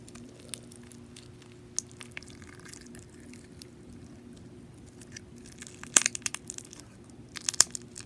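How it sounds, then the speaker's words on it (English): Soft crackling and squishing of crunchy bead-filled slime being pressed, with scattered sharp pops and clicks over a faint hum. "they definitely made this slime very crunchy"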